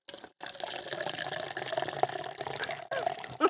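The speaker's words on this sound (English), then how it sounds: "Yeah, I'm going to clip that sound. The coffee pour." Coffee being poured into a cup, a steady continuous liquid stream lasting about three seconds with a brief gap near the start, close and fairly loud with no talk over it.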